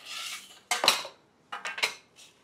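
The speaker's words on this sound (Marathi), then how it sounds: "आता हे ट्रे घ्यायचे" Metal trays picked up and handled in a home kitchen, with several clattering metallic knocks and scrapes in two short bursts separated by quiet, close and without speech.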